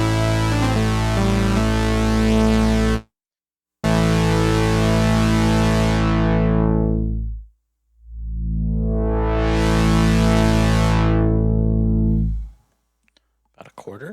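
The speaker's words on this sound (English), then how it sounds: "So this is the sound of the 2 saws." A loud, bright buzzy synth drone from two detuned sawtooth oscillators in the same octave on a Sequential Take 5, briefly cut off, then low-pass filtered down and swept back up before stopping.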